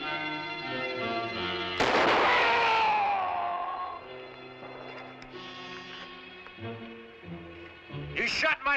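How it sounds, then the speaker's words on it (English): A single loud rifle shot cracks out in a frontier adventure TV drama and leaves a ringing tail. Orchestral music plays underneath, and a brief sharper sound comes near the end. "You shot my blood brother."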